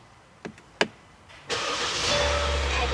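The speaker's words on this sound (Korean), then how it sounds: "자, 우리 디젤 차량 시동 한번 걸어보도록 하겠습니다." A 2018 Kia Sorento 2.0 diesel 4WD gives a couple of sharp clicks, then cranks and catches, settling into a steady, close, low diesel idle.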